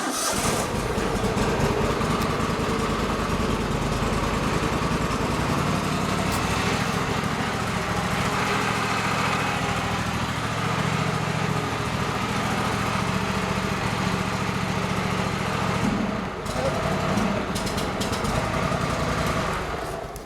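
A cold MTD riding lawn mower engine idles close by with a steady, buzzing drone, briefly dipping and revving near the end.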